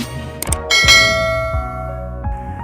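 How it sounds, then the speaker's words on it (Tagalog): A bright notification bell chimes several times in quick succession, with clear metallic dings ringing out and decaying over a sustained tone, loud and alone with no talking. "i-ring mo na rin yung notification bell"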